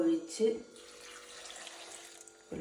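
A small amount of water is poured in a home kitchen while star fruit is being prepared: a soft, faint splashing stream lasts about two seconds between brief clinks and handling noises.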